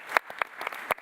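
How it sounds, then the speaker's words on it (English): A few scattered hand claps from an audience at a mobility summit talk, several sharp separate claps over one second rather than a full, dense ovation. "So you can give a big round of applause for that"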